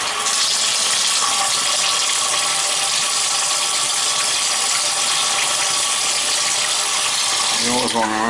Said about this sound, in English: You always want to run the shower and make sure that there's no leaks.